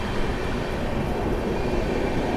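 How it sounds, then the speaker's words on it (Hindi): The Paschim Superfast Express rolls out of Sonipat Junction railway station, a loud, steady rumble of train cars heard from inside the moving train, dense and unbroken. "2 मिनट हॉल्ट के बाद डिपार्चर हो चुका है सोनीपत जंक्शन रेलवे स्टेशन"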